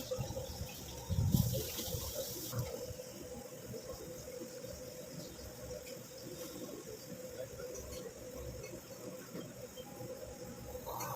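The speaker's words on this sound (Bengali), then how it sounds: "যা কাপ টাপ পড়েছিল সেগুলো সব ধুয়ে ফেললাম, মানে সাবান দিয়ে মেজে ফেললাম।" Water runs steadily from a kitchen tap while cups are scrubbed with soap, a soft continuous stream with a brief louder splash near the start.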